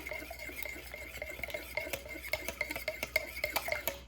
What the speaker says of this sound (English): So I use this Danish dough whisk, and we're just gonna mix these 3 ingredients together.